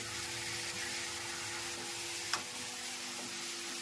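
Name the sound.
greens sizzling in tempering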